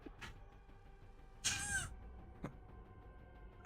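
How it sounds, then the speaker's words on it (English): A single cat gives one short, sharp meow, fairly close and clear against a quiet room with a few faint knocks and rustles around it. "Ah, the kitty cat"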